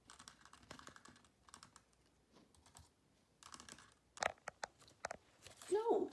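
A pet baby bird steps across a computer keyboard, producing scattered, irregular key clicks that grow sharper toward the end, while a person talks nearby.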